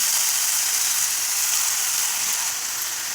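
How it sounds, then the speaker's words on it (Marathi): Wet spring onion greens drop into hot oil with a tempering of mustard seeds and cumin, giving a loud, steady, hissing sizzle that stays close and even throughout, with no voices. "मोहरी तडली की जिरे टाकायचे कांद्याची पात ना भिजलेली टाकायची"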